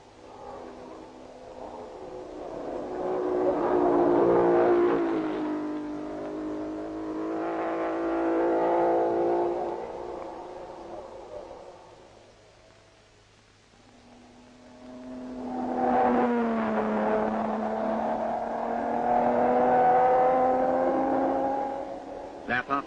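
Aston Martin race cars at the 1959 Le Mans race, their engines roaring past in long, rising and falling sweeps with changing pitch, one car after another, heard from a distance on an old recording.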